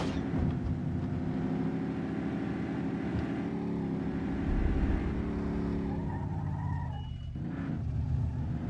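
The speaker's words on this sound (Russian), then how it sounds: "Странный звук у мотора, слышишь?" A car engine in The Godfather video game runs loudly and continuously, making a strange sound, with shifting pitch as it revs and changes tone, no voices over it.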